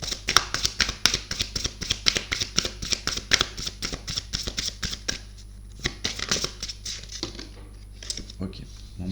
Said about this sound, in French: je vais vous tirer une carte des anges, voir un petit peu ce qui va ressortir pour vous comme conseil